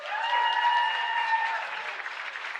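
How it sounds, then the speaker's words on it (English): An audience applauds the house band at a drum school showcase. The applause is steady and close, with whoops or whistles over it that carry to the end. "Let's give them a round of applause, y'all."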